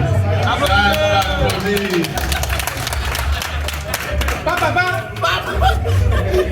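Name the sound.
audience applause at an award ceremony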